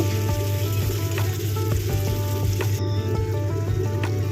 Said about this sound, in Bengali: টমেটো দিলাম নুন দিয়ে দিলাম এর মধ্যে দিয়ে আমি নাড়াচাড়া করে নেব একটু